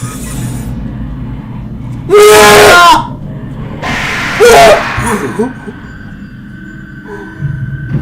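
Two loud shrieking screams from a creature in SCP: Containment Breach, each about a second long and piercing, separated by a low hissing ambient hum, with a faint, fainter cry near the end.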